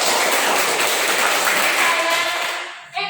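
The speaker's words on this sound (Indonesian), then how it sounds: "berikan tepuk tangan untuk saya" Applause from a classroom of students after a short story reading, a loud dense wash of clapping that holds steady and then fades out, followed by a brief knock.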